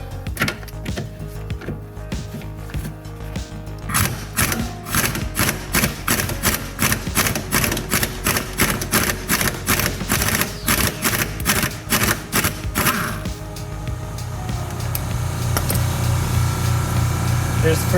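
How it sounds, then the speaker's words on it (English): An impact driver hammers in a fast, loud burst of rattling blows at a rusty sway bar bushing bolt on a car's rear suspension, then gives way to a steady whirring hum. "Since it's so rusty, I'm gonna use my impact driver."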